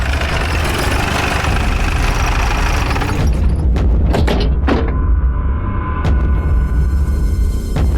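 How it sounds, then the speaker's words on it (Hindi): A motorbike engine hums steadily nearby, loud and continuous, with a few thumps and clicks partway through. "ये तो विलास की बाइक है।"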